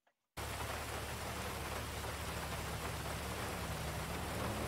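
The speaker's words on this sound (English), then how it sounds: "The rain." Steady rain in the GTA 5 video game, a dense continuous hiss of drops on surfaces, even and fairly loud from start to finish after a brief silent moment, with no speech.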